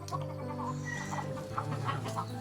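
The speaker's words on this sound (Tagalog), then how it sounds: "Ang ganda ng manok." Chickens cluck at an old house, a run of close, overlapping clucks and short calls over a faint steady hum.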